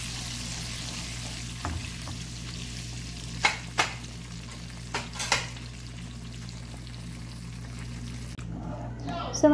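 Chopped onion fries in a pan for vegetable dal, giving a steady soft sizzle throughout, with a few clinks and scrapes of stirring on top and brief speech near the end.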